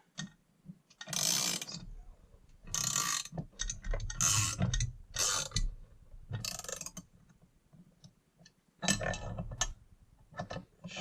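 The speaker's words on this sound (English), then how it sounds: "So sometimes I'll get a just a ratchet on here." Ratchet cranking on a bolt while the crankcase of a Farmertec G660 chainsaw is drawn together, heard as several close bursts of rapid clicking separated by short pauses.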